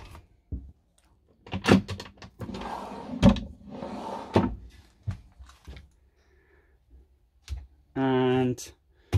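A drawer in a Carthago Chic C-Line T4.8 LE motorhome kitchen opens and shuts with a cluster of close clicks and knocks, interspersed with short rattles and a brief buzzing slide near the end, with no talk over it.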